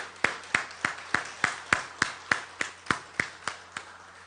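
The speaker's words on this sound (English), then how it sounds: "Let's give them a round of applause." An audience claps for healthcare workers at a COVID-19 vaccine rollout event, about fourteen sharp, evenly spaced claps in a steady rhythm, crisp and fairly close, with no voices over them.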